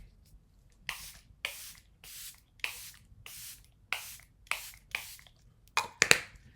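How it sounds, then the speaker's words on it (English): Charlotte Tilbury setting spray is misted onto a face in about nine short, sharp hissing bursts at a steady rhythm, close and fairly quiet, with a quick double puff at the end. "And then I'm going to go in with my favorite Charlotte Tilbury spray."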